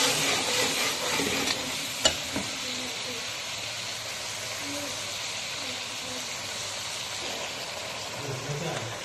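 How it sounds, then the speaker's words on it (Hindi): Ginger tempering sizzling in a pan while vegetables for Chinese rice are cooked: a steady close hiss and crackle with a brief sharp clatter of stirring, under soft speech. "अब हम इसको अदरक का तड़का लगा देंगे"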